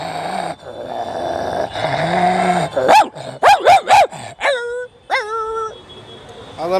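A man imitates a dog with his voice, giving a short run of sharp barks and yelps in quick succession around the middle, preceded by a few drawn-out vocal sounds, close and loud with no other background.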